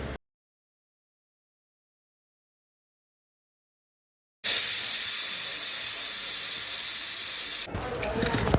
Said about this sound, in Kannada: ಈಗ 8 ವಿಸಿಲ್ ಹೊಡೆದೈತಿ